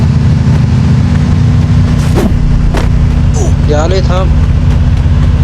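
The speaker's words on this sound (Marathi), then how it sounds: "गाडी घेऊन इकडे मी चालवणार आहे." Vehicle driving in Free Fire MAX, a loud steady engine drone with a low rumble throughout, under someone talking briefly.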